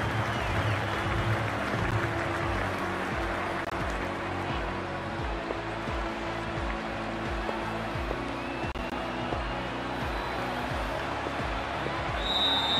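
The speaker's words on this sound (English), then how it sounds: "We're about to get underway and already the crowd is up and about." Stadium crowd in the cricket video game Cricket 24, a steady ambient roar of spectators with repeated low thumping beats underneath, constant and fairly distant.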